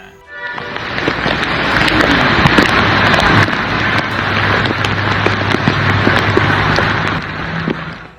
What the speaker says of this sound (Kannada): ಉತ್ತರ ಪ್ರದೇಶದಲ್ಲೂ ಮಳೆ ಆರ್ಭಟ ಜೋರಾಗಿದೆ